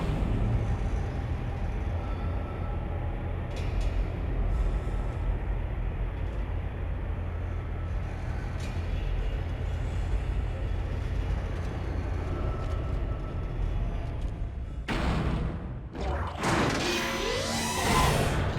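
Low mechanical rumble and hum of a tram in Dead Space, steady and close for most of the stretch, then shifting into brighter metallic screeching and whooshing near the end.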